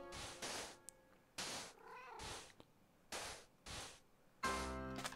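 Minecraft cats give several separate meows, short bright cries spaced through a few seconds, close and clear with no talking.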